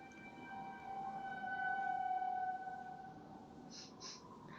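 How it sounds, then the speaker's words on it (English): A faint, steady wailing tone like a tornado siren test holds over low background rumble, swelling slightly in the middle, followed by two short higher chirps near the end. "It always sounds like the beginning of like the tornado siren test."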